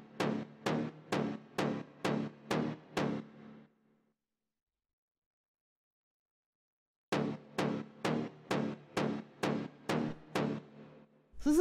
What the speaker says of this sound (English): The next thing that we have here is this little lead super saw-ish sort of sound